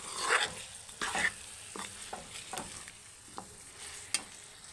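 Chicken tomato fry with garam masala is stirred in a pan, a quiet sizzle under several scraping spoon strokes that come in irregular bursts.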